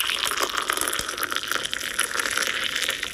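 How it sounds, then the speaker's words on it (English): A steady hissing, splashing stream of water pours without a break, bright and close, with no voices. "Now we have seen pouring water."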